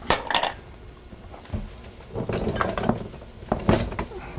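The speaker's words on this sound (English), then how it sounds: "Get out a spoon and just mix all that in." A spoon scrapes and clinks against a bowl while mixing minced prosciutto into pierogi filling, with a few sharp knocks at the start and near the end and quieter stirring between.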